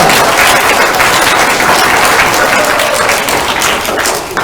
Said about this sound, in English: Let's give a huge round of applause for this